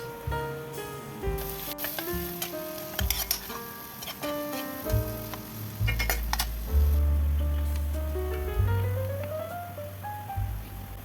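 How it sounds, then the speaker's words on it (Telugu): Onions frying in hot oil for a Kerala-style coconut milk chicken curry give a steady close sizzle, with spoon stirring and occasional clinks of utensils against the pan, and no talking. "ఇప్పుడు నూనె వేడయింది, ఉల్లిపాయలు యాడ్ చేసుకుందాం."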